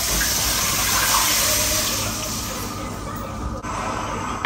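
Cooked field beans tipped into a pot together with their cooking water, a loud close gush of pouring liquid that eases off slightly toward the end, with no talking.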